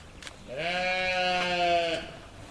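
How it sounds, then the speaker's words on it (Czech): One goat gives a single drawn-out bleat lasting about a second and a half in a game enclosure at Obora Dubí. It sounds near and stands out against a quiet outdoor background. "Tady přišel kozel"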